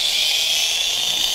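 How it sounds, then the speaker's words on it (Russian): A Luxtool angle grinder cuts into a ceramic tile with a steady, loud, high-pitched whine and grinding hiss, running continuously and close with no voices. "хотите деликатно отрезать вот эту кафельную плитку. Диск одеваете, поехали нашей болгаркой."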